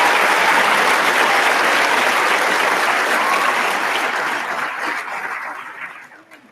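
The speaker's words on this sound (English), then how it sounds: "The graduates, I'll give them a round of applause." Loud sustained applause for graduates at a university graduation ceremony, many hands clapping densely and evenly before tapering off near the close, with no talk over it.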